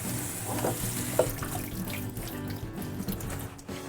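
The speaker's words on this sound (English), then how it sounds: "I'm gonna give it a quick rinse" Tap water runs steadily over baby kale and chopped romaine lettuce in a sink, a continuous splashing hiss with small shifts as the leaves are rinsed.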